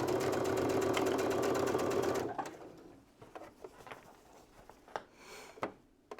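A sewing machine stitches a quilt project, running in a steady, loud mechanical rhythm for about two seconds before stopping, leaving faint scattered clicks and handling noises.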